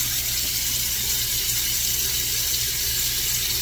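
Water runs steadily from a tap to wet a head before shaving with a razor, a constant close hiss and splash without pause or voices.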